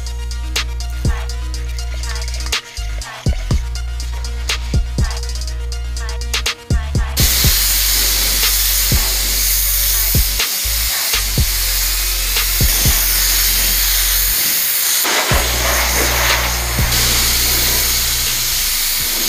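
Spray gun applying 2K primer to a Nissan Note body panel in a collision repair shop, a loud continuous hissing spray in long passes with brief pauses and small clicks between them.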